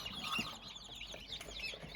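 Newly hatched chicks cheep faintly inside a Cimuka CT180SH incubator, with a few high chirps over a steady hum from the machine.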